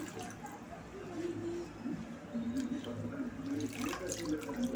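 Washed red amaranth greens drain in a kitchen colander, giving a steady close trickle and patter of running water that continues throughout.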